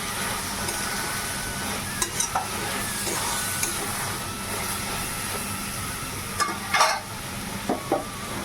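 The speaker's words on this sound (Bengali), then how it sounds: "চিংড়ি মাছগুলো দিয়ে একটু কষে নিই" Prawns frying and being stirred in a spice paste in a pan, a continuous bright sizzle with scraping spatula strokes and a few louder clatters, close and alone.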